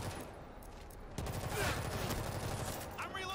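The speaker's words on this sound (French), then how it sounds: "Ah, une batteuse! Ah, pour être une arme lourde, c'est une arme lourde, hein." A heavy machine gun in the zombie shooter World War Z fires a sustained, dense stream of rounds that grows louder partway through, joined by other game noise.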